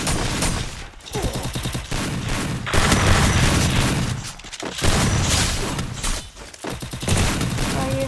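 Rapid bursts of automatic gunfire in a shooting video game, dense loud volleys with short pauses between them, continuing for several seconds.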